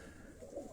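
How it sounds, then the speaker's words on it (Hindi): Racing pigeons at a pigeon-flying championship in Havelian, cooing softly in a short, continuous low murmur. "ये कबूतर आपको दिखाए जा रहे हैं डॉक्टर शाहिद साहब के।"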